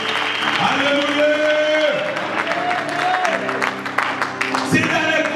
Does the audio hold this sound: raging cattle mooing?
no